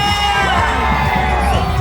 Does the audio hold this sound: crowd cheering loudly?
yes